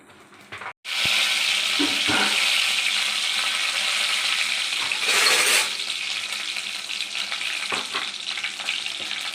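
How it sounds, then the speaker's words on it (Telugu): Loud, steady sizzling of urad dal and dried red chillies frying in hot oil starts abruptly and continues, with occasional stirring clinks and a brief surge of crackling. "కొంచెం మినపప్పు వేసేసుకొని ఫ్రై చేసుకోవాలండి. దాంట్లోనే ఎండుమిర్చి కూడా వేసేసుకోవాలండి."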